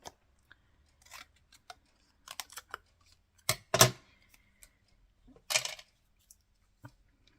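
Scissors snipping off a piece of craft paper, scattered short crisp cuts and rustles with a few louder snips, close and otherwise quiet.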